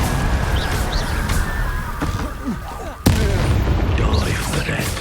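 Blasts from the Confringo fire spell in Hogwarts Legacy burst over dense combat noise, with a sharp loud crack near the middle among rumbling booms, whooshes and muffled game effects.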